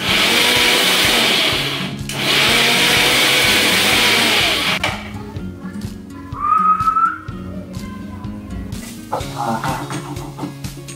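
A mixer grinder whirs loudly in two bursts with a brief pause between, grinding tomatoes, then cuts off, leaving quieter kitchen clatter and a short whistle-like tone.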